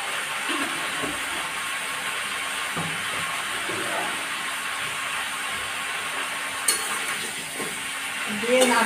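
Mango pickle stirred with turmeric and salt in a pan, giving a soft continuous sizzle with occasional scraping strokes and light clinks near the end.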